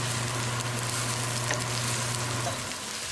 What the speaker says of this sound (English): we're going to cook onion until they get translucent